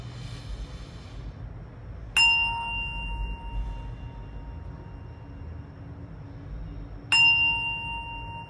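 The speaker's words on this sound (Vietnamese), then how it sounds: "lắng nghe tiếng chuông xoay để các bạn có thể lựa chọn nhóm bài phù hợp nhé" A singing bowl bell is struck twice in a quiet room. Each strike gives a bright, clear ring that lingers and slowly fades over several seconds.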